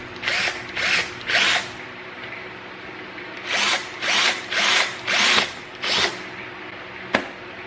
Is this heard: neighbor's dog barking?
no